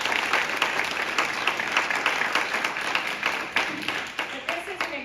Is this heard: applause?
yes